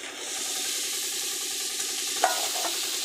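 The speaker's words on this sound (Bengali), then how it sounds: "ভালো করে কষে নেবো" Peas and potatoes fry in a pan for ghugni with a steady sizzle while a spoon stirs and scrapes rhythmically, one sharper clink standing out near the end.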